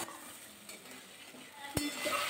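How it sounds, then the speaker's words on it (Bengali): Potatoes being stir-fried with spices in a pan for a Bengali potol curry: a soft, steady sizzle with light stirring scrapes and one sharp utensil knock near the end, close and moderately quiet. "আলু দিয়ে কিন্তু আরও 2 মিনিট আমি কষিয়ে নেব"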